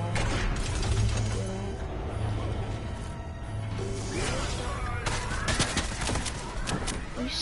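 Video game gunfire crackles in dense bursts over a constant loud mix of game noise, with overlapping shots and mechanical clatter throughout and no clear pause.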